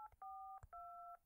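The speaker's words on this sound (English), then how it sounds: "someone's clearly making a phone call." In Resident Evil 7, a telephone is being dialed: a quick run of distinct touch-tone beeps, two of them held longer, with a soft click between them, clean and fairly quiet.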